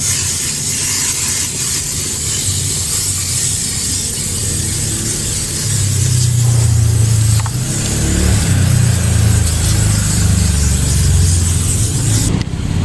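Continuous hiss of rat repellent being sprayed as a second coat into a car engine bay, loud and steady throughout with a low rumble joining partway through.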